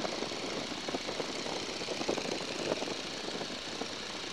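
A 1942 Boeing Stearman biplane's engine drones steadily during landing, a constant propeller rumble with no voices.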